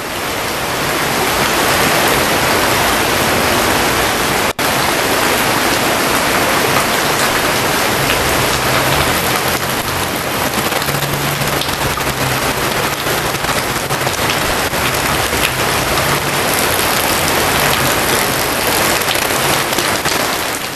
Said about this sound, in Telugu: నగరం అంతా కుండపోత వాన కురుస్తోంది